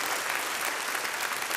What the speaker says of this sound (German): ein Applaus wäre an die Backfrau